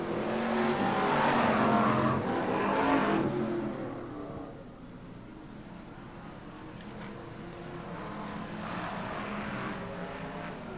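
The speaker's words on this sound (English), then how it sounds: "BriSCA Formula One stock cars, Grand National and 10-lap dash." BriSCA Formula One stock cars racing at Skegness, a loud engine roar swelling and fading as cars pass, settling into a steadier distant drone of several engines around the circuit.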